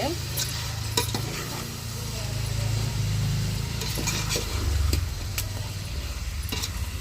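Chicken pieces frying in a pan for chicken fry piece biryani, a steady loud sizzle with scraping stirs and clinks of a utensil against the pan, and a low background rumble.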